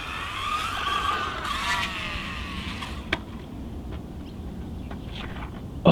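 An MJX Hyper GO H14BM RC car on a 3S battery whines at high revs, skids with rising and falling motor pitch, then tumbles and flips over with sharp knocks, ending in a loud close bump.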